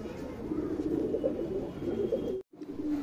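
Low rolling coos from a Chitte Buri pigeon, near and continuous, broken by a brief dropout before the cooing resumes.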